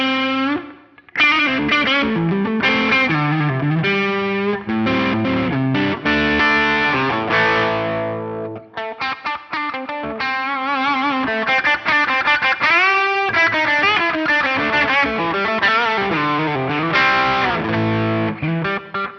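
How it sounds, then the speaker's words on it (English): Electric guitar driven through a Morning Glory style overdrive on a NUX MG-30, loud gritty chords and quick melodic runs with brief pauses between phrases, played alone without talking. "Let's add in this Morning Glory style drive."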